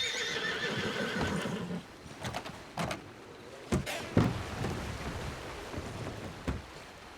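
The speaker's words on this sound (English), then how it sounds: "Sergeant's a good horse." A Hungarian horse named Sergeant in a RedM western roleplay game gives a whinny, then its hooves clop and thud in sharp separate beats, fairly close, over a low outdoor background with no talking.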